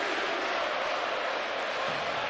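Partizan basketball fans in a packed Euroleague arena late in a game against Armani, a dense, steady crowd roar of massed voices with no individual chant standing out.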